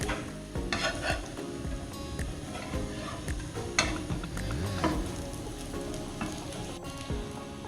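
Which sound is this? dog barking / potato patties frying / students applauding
potato patties frying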